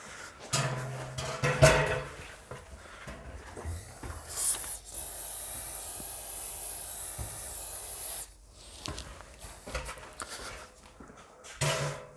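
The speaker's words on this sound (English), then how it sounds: "I'll just spray these down again" Several short hisses of a silicone lubricant aerosol spray on a garage roller door, including one long steady spray lasting a few seconds, with faint clicks and handling noise around them.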